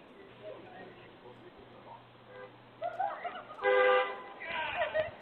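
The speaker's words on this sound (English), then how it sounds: "Honking horns, of course." Several car horns honk in bursts on a street, one long blast standing out, with a low steady hum and traffic noise underneath.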